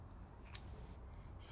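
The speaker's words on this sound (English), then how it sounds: "And it should be pretty hard to cut because it got really felted together." Scissors cut through thick, densely felted wool in a single short, crisp snip, fairly faint against a quiet background.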